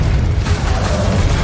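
A Confringo explosion spell from Hogwarts Legacy gives a loud, dense booming blast with a deep rumbling low end, sustained and close throughout.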